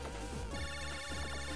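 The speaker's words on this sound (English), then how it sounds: "it's your phone" A phone ringtone from the Mega Man Battle Network 5 video game: a bright, repeating electronic melody with steady beeping tones, loud and alone with no talk over it.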